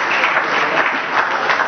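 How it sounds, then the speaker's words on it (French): Dense, steady applause from an audience at the official premiere of the Simon Kimbangu film at the Hôtel Pullman, a loud wash of many hands that continues without a break. "Est-ce qu'on peut les applaudir?"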